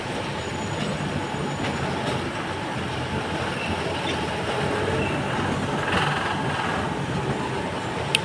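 An Alexandria Raml tram runs with a steady, loud rumble of wheels on rails and faint rattling and squeals throughout.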